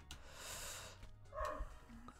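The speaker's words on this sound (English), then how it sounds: "Amstel's barking!" A pet dog named Amstel barks a few times indoors, short sharp yelps rising near the middle of the clip, moderately close and alone without talk.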